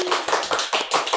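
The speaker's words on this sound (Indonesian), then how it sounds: "Tepuk tangan dong teman-teman." A podcast audience at a youth literacy event in Bukittinggi applauds in a short burst of quick, close hand claps.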